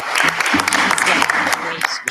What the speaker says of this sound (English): So if we can just give him a round of applause for that huge accomplishment.